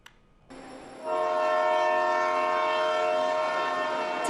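A Future Express train at Nankang station in northern Taiwan sounds its horn in a loud, sustained blast that swells and holds steady, with rumbling rail noise underneath.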